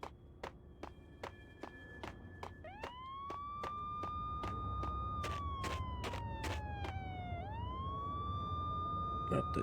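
A police siren in the Max Payne video game rises and wails in long sweeping tones over a steady run of footsteps, growing loud and close and then dipping and climbing again.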